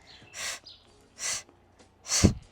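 Three short, forceful breath exhalations during an Oxysize fat-burning breathing exercise, spaced evenly about a second apart, breathy and close, the last one ending in a heavier, rougher puff.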